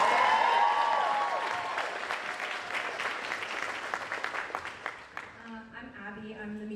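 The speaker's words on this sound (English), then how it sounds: "So one more applause, round of applause for the models." A crowd at a university fashion show claps for the models, loud sustained applause that thins into scattered individual claps, with voices talking and cheering over it.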